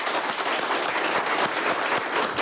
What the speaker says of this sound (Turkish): sizlerden kardeşime bir alkış istiyorum